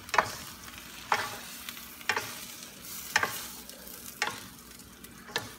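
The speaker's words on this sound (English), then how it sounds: "Give it a stir again." Shrimp lo mein stirred in a pan, with about six regular scrapes of the spatula, one roughly each second, over a low steady sizzle. No one speaks.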